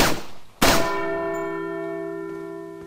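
In the video game Resident Evil 4, a bell is struck once with a sharp clang, then rings on with a long, slowly fading metallic tone, loud and close with no voices.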